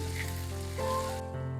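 Dried anchovies fry in hot oil for nasi liwet, a close, steady crackling sizzle throughout the short moment.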